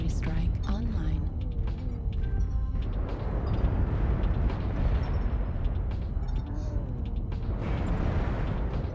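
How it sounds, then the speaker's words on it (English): Artillery strike explosions in a mech combat video game, heavy rumbling blasts and booms rolling on over several seconds, with voices talking over them. "Artillery strike online"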